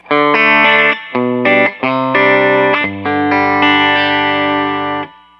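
Distorted electric guitar through a Nace M3-7R combo amp plays a short run of chords and notes, bright and loud, ending on a sustained ringing chord that fades out.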